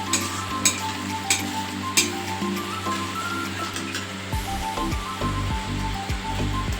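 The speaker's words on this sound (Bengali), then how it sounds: "কাজু বাদাম বাটাটা দিয়ে মশলার সাথে কিন্তু আমি ভালো করে কষিয়ে নেব" Cashew paste frying with masala for a potol posinda gives a continuous sizzle at close range, with a few sharp clinks of a spoon early on and a steady hum running beneath.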